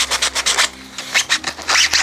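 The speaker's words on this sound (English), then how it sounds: "We've done one side of sanding, now onto the second side of the hull." Sandpaper rasps back and forth over a 3D-printed plastic RC boat hull in quick, loud, rhythmic strokes, close up.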